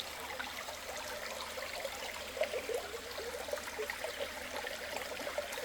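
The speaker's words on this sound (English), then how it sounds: "just listen to this little trickle." A small trickle of water runs in a low, shallow river in New Hampshire, a soft steady babble that stays faint and continuous with no one talking.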